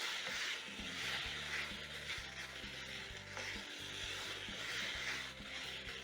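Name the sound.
minced meat searing and sizzling in a pan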